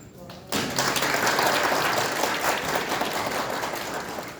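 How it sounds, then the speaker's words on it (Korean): Applause from an audience at a National Assembly forum on agricultural production surveys breaks out suddenly after a quiet moment, then holds as a dense, steady wash of clapping with no speech over it. "한 분 한 분 큰 박수로 맞아주시기 바라겠습니다"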